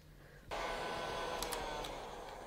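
A heat gun or hair dryer starts up abruptly and blows steadily, drying metallic rust-effect patina paint on a craft piece; a continuous broadband whoosh, close and fairly loud, with a few faint clicks partway through.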